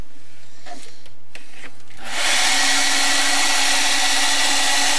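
A hair dryer switches on after a quiet couple of seconds and then blows in a loud, steady, close whoosh while drying wet paint.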